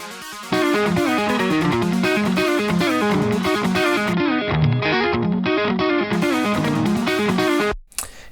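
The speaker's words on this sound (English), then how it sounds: "they're just a pair of Polymax synths from UA." A pair of Universal Audio Polymax synths playing a thin, raspy patch run through an oxide tape machine, doubling a clean guitar riff in a steady, loud rhythmic pattern that cuts out abruptly near the end.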